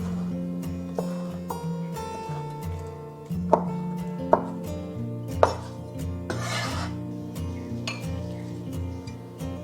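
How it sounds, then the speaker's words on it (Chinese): A fried egg omelette is sliced into strips, producing a handful of sharp knife knocks on a board spaced irregularly over sustained background music. "煎好过后，我们拿出来切成条备用。"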